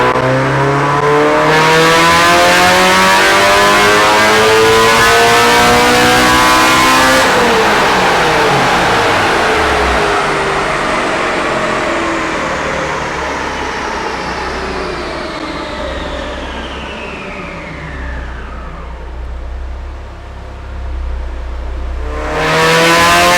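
A Mazda Miata with a swapped Honda K24A engine revs hard on a dyno run, climbing steadily in pitch before easing off, then surging again at the end, loud and close with no talking.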